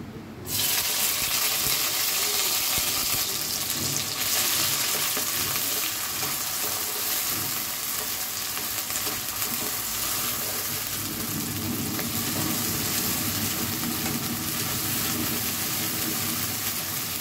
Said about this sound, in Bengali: খুব বেশি কড়া করে ভাজবো না, হালকা করে ভেজে নেব।